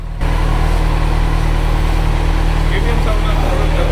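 A Kawasaki Z900 motorcycle engine starts up and holds a loud, steady, throbbing exhaust note close by, running continuously after a brief quiet opening.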